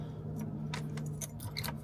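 Ignition keys for a C10 pickup jangle and clink close by in a few quick metallic bursts, with no talking.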